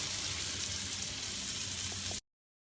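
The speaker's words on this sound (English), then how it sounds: "So I've seared off the beef." Beef searing in a hot pan, a steady loud hiss and crackle of frying fat that runs unbroken and then cuts off abruptly.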